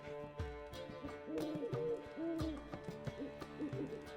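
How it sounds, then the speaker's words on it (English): An owl hoots in The Witcher 3 Wild Hunt, several soft hoots set against layered game music and ambience. "It's an owl."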